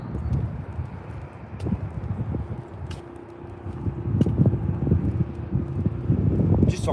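Outdoors, gusty wind buffets the microphone, producing low, rumbling bursts that rise and fall continuously throughout.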